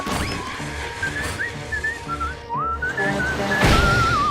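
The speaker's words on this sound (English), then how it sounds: "An indoor whistle brings luck's dismissal" A melodic whistled tune indoors in a SpongeBob SquarePants cartoon, wavering up and down in pitch, plays over a busy background of music and splashy sound effects.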